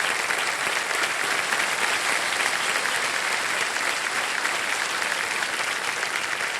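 Studio audience on a Hindi TV quiz show applauds in a loud, continuous burst of many hands clapping, dense and steady from start to finish with no speech over it.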